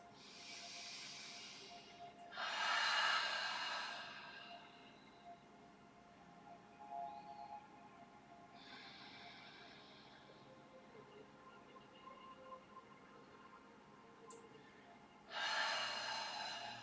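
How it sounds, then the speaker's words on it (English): Slow, deep breaths during a vinyasa yoga session, with several airy inhales and exhales spaced several seconds apart, soft and close in a quiet room with no talking. "And we'll take 3 more deep breaths here."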